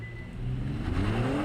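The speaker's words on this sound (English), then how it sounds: "I just launched the Kia and yeah, I'm well over 60 miles an hour" A 2018 Kia Stinger pulls away hard from a standstill under launch control, its engine note climbing steadily as the car accelerates, close and continuous with no talking.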